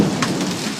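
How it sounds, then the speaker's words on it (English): Hail pellets patter densely on a car during a summer thunderstorm, a loud, steady hiss of ice and rain striking the surface up close with no voices. "What we see here is popcorn in the trailer, which is actually pellets of ice coming from the sky."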